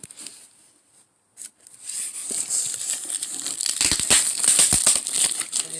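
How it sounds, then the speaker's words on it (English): Scissors snipping and tearing through crinkly plastic packaging from a skateboard delivery, a brief rustle early on, then a dense run of close, sharp cuts and crinkles growing louder toward the end, with no voices. "I just used these scissors"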